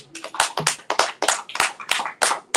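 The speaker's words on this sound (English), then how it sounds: "Give yourself a round of applause." Audience at an open mic night in a bookshop claps in a loose, steady burst of overlapping hand claps, fairly close and lively, continuing for a couple of seconds with no talk over it.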